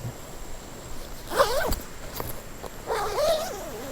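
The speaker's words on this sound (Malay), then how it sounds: "Okay, so dia ada zip." An OZtrail tent bag zipper is pulled open in two quick rasping strokes separated by a short pause, close and fairly loud, with no speech over it.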